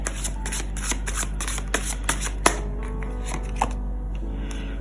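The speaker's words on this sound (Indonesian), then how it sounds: "langsung aja kita kocok kartunya" Tarot cards are shuffled by hand in a quick series of crisp riffling flicks and soft taps close to the listener, which thin out toward the end.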